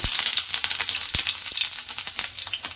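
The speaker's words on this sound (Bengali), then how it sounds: "এইবারে এই গরম তেলের মধ্যে কিন্তু বেগুনগুলো একটা একটা করে দিয়ে দেব।" Eggplant slices frying in hot oil in a pan for begun bhorta, a steady close crackling sizzle with scattered pops throughout.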